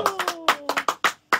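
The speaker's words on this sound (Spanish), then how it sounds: "Jessy Fuch, fuerte el aplauso." Short bursts of hand clapping in a radio studio, a handful of separate claps close to the microphone, with a voice running underneath.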